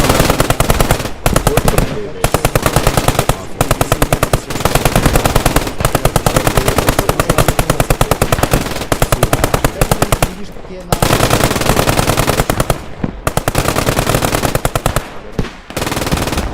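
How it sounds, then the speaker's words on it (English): Bursts of M1919 .30 cal machine gun fire from a Jeep in Squad 44, loud and close, with long sustained strings of rapid shots broken by brief pauses, the firing nearly continuous throughout. "They're using a 30 cal in the Jeep."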